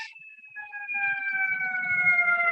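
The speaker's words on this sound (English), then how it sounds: "Enjoy the sirens as they go by." A siren holds a long steady tone that slowly drops in pitch as it passes, with low rumbling traffic noise underneath and no talking.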